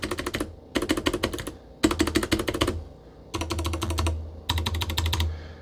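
Typing on a Royal Kludge RK84 mechanical keyboard with stock stabilizers: rapid, clacky keystrokes in five quick bursts separated by short pauses, close and fairly loud, with deeper thocks from the larger keys.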